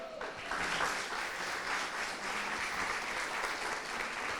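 A church congregation breaks into sustained applause, steady and full throughout, with clapping from many hands.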